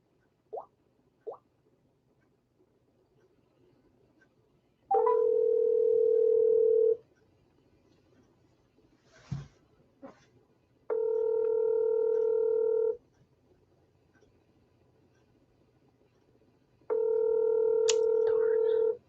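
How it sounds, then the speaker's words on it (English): Telephone dial tone while placing a call: three separate steady two-second tones spaced apart in a quiet room, with faint clicks and small taps between them. "But let's go over and see if we can't get Stephen on the phone."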